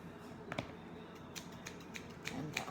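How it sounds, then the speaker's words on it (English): Scissors slide-cutting hair into a bob, heard as soft, close snips in a few small clusters that are faint and crisp against a quiet room. "Do the slide cut, and then I go back"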